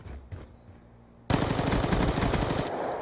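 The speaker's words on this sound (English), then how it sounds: "with the recoil on this, this gun is pretty nuts" Rapid automatic gunfire from a gun in a video game, likely a competitive shooter match, bursts in suddenly and loud after a quiet moment, then runs as a dense, steady stream of shots to the end, with no talking.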